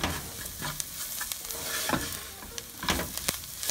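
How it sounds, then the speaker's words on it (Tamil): Masala for chicken chukka fries and sizzles in a pan, a continuous close crackle broken by the scrape of stirring at irregular intervals, with no voices. "நல்லா மசாலா வந்து பொரியும், வாசம் வர பொரிய விடுங்க"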